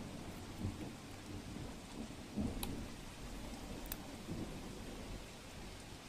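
Steady rain pours onto waterlogged, pothole-ridden city streets in Ahmedabad, a dense continuous hiss of drops striking pooled water, with faint low rumbles beneath and no voices.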